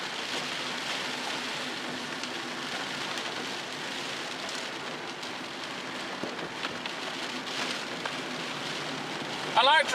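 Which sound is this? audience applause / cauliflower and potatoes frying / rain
rain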